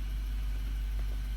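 Infiniti QX80 engine idling steadily after start-up, a low continuous rumble with a constant hum throughout.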